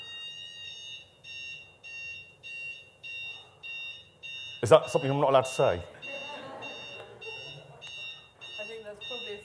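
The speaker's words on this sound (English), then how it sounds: "I think there's probably a fire alarm." A fire alarm in a classroom or lecture setting beeps in a steady repeating pattern of short high tones, with a person speaking over it partway through.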